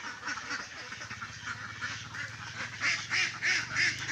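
Egg-laying ducks quack in a group nearby, a steady chatter of overlapping calls that grows louder and more rhythmic toward the end, with no one talking.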